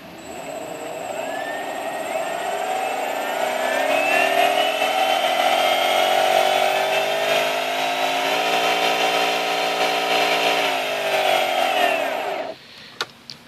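Homemade electric skateboard motors under variable-speed control run with a steady whine and rising harmonic tones, holding loud and continuous for about twelve seconds before cutting off abruptly, followed by a few small clicks.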